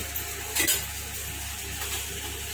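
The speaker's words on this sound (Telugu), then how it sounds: "అదే బండిలో కొంచెం ఆయిల్ వేసి ఎండుమిర్చి కూడా వేపుదామండి." Dried red chillies fry in oil in a pan for idli karam podi, a soft steady sizzle with a brief louder clatter of stirring near the start.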